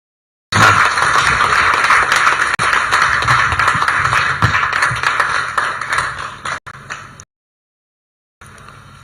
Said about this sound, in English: Can I ask all of us to clap for our dear minister